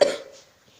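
A woman gives a single short cough at close range, a quick burst that fades away within half a second into near silence.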